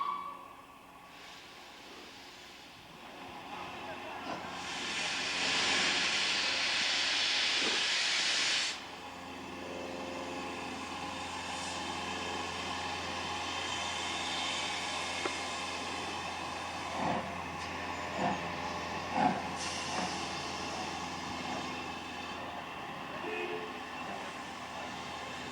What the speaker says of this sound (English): the locomotive is getting ready to pull on